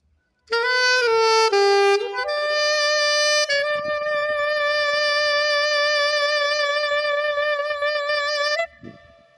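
A wind instrument opens with a few quick notes, then holds one long note with a steady wavering vibrato before it stops.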